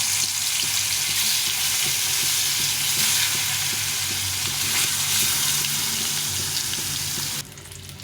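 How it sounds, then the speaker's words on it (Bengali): Round pieces of snakehead fish frying in hot oil for a spicy curry, a constant close sizzle holding at an even level and dropping off abruptly near the end, with no voices. "মাছগুলো ভাজা হয়ে গেছে মাছগুলো উঠে নিয়ে বাকি মাছগুলো ভেজে নেবো এই মাছগুলো ভেজে নিলাম"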